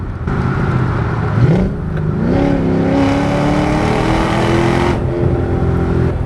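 Supercharged 2006 Ford Mustang Saleen with a 4.6 V8 pulling hard, a loud, steady engine roar climbing in pitch through the gears with a brief shift dip, close and continuous with no talk.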